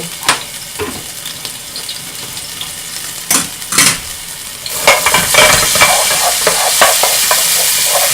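Minced garlic in olive oil sizzles in a pan, starting with scattered clinks and scrapes of a spoon on the pan, then rising into a loud, steady frying hiss with stirring sounds, close up and without talking.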